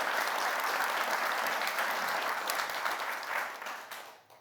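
An audience at a packaging innovation award ceremony applauds warmly, with a dense, steady clatter of many hands that fades away in the final second.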